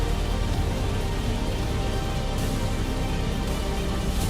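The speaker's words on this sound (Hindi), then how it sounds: "तमिलनाडु के कई हिस्सों में बारिश हुई" Rain falling in Tamil Nadu, a dense, steady hiss of drops hitting surfaces that stays even and continuous, with no voices over it.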